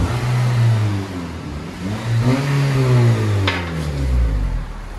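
A 2014 Honda Civic Si with its stock exhaust revs up and down a few times, giving a loud, close engine drone that rises and falls in pitch with no talking over it.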